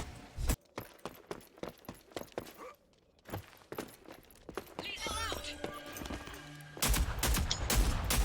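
Rapid gunfire in the shooter game Rogue Company, a burst of repeated sharp shots followed by a denser volley and more loud cracks near the end, with a player talking over the action.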